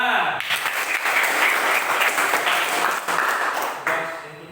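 A classroom of students applauds together during a lesson on the digestive system: brisk, dense clapping filling the room for several seconds, with faint voices mixed in.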